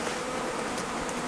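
Honey bees buzz around a newly installed hive, a brief, quiet, continuous drone of many wings close by, with no voices.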